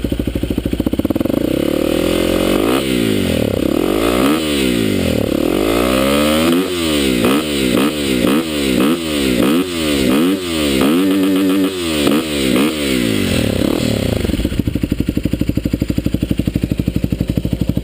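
A Yamaha WR250R supermoto with an aftermarket exhaust idles roughly, then revs repeatedly in quick rising-and-falling bursts, loud and close, before settling back to a popping idle.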